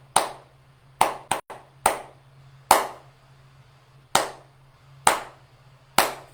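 Hand claps picking out a syncopated rhythm, sharp distinct claps spaced unevenly with a quick pair near the start and gaps between the rest, close and clear over a faint steady hum.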